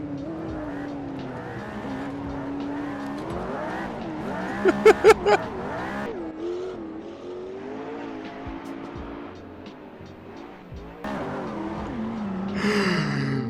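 A McLaren 720S supercar roars as it accelerates in third gear, its engine note rising and falling with a brief squeal of spinning tires, while a driver talks over the noise.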